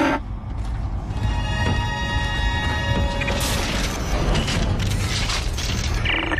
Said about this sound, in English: the door to communications is open.